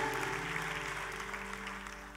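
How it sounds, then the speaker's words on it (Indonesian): Applause from a church congregation, a steady dense wash of clapping at moderate level holding through the whole moment, with a faint low hum underneath. "Tepuk tangan buat Raja di atas segala raja."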